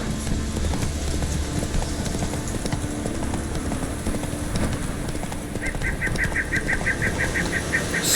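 Roach, the horse in The Witcher 3, gallops in a steady run of close hoofbeats over a busy game soundscape, with brief bird-like honking calls near the end.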